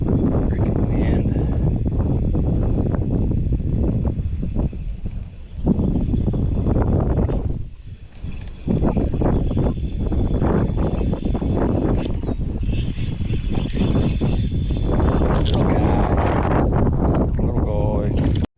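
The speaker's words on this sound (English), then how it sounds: "Freaking wind." Strong wind roars across a clean river during a fishing trip, buffeting the microphone in a loud, nearly constant rush with a brief lull partway through.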